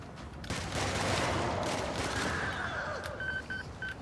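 Rapid video-game gunfire crackles in a dense volley after a sharp onset, sustained and fairly close, with a few high electronic beeps near the end and no talking.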